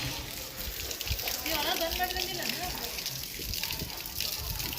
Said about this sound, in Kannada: ನೀರಂತೂ ಮಸ್ತ್ ಪ್ರೆಷರ್ ಅದ ನೋಡ್ರಪ್ಪ